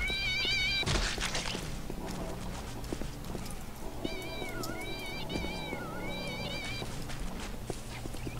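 Cats meow repeatedly in Postal 2 as they rain down from the sky, their high wavering cries rising over a steady game soundscape with hoof-like clopping and background noise.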